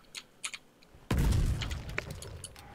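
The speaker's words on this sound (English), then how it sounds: "Oh, explosions!" Explosions in the war game Foxhole. A few faint distant pops come first, then one loud booming blast that rumbles and decays, with scattered smaller bursts after it.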